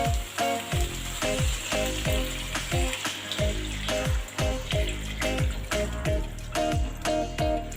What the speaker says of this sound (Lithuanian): Dabar didinam dujas ir pilam vandenį.